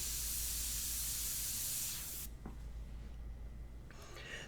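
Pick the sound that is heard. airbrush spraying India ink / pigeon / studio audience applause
airbrush spraying India ink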